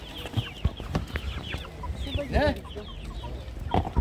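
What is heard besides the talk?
chickens clucking at a market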